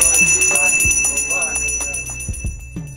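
Temple bells ring loudly and close during evening aarti at Sri Sidh Baba Sodal Mandir in Jalandhar, with rapid repeated metallic strikes that leave bright sustained tones and sharp percussive hits.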